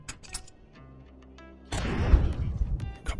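A frag grenade explodes in Contractors, a sudden loud blast that cuts in after quieter game sounds and decays into a rumbling, crackling tail.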